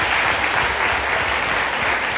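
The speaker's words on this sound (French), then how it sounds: "On peut les applaudir." An audience applauds a forum-theatre company at a stage show, a brief, dense, steady burst of clapping heard close, with no voices.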